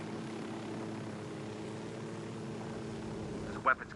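Airplane engine droning steadily throughout a rough landing in the Ghost Recon Wildlands video game, with a brief sharp bump near the end.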